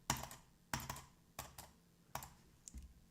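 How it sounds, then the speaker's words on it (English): Nervous clicking on a computer keyboard: five quick bursts of sharp key clacks spaced out in a rough rhythm, close and fairly quiet, with no talk. "This is a nervous clicking."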